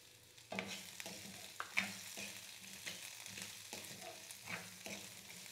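Garlic cloves and tamarind fry in oil for a ginger chutney, a soft, fairly faint sizzle with a few stirring scrapes spread through, and no voices.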